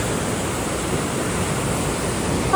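Water rushing hard through the Needle Dam in Lucerne, a steady, loud broadband roar with no breaks, close by and without any talk.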